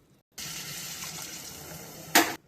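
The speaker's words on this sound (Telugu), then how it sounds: "దీనికి నీళ్లు 4 కప్పులు పోయాలండి" Water pours steadily from a cup into a pan of semolina kesari sweetened with jaggery, a close continuous splashing stream with a brief louder gush near the end.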